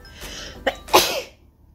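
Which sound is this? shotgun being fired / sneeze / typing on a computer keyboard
sneeze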